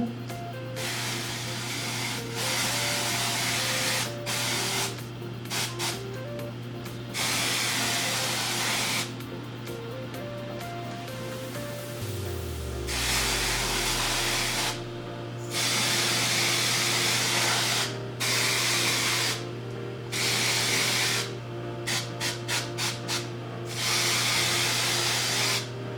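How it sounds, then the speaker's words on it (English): Aerosol bursts of L'Oreal Colorista rose gold hair color spray hiss in repeated short and long blasts over a steady background hum, close and loud, with no talking. "let's try the rose gold"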